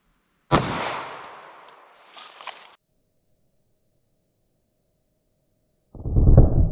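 A single sharp 9mm Federal Hydra-Shok Deep gunshot from a short-barrel pistol, loud and close with a brief echoing tail, followed by silence and then a later burst of noise.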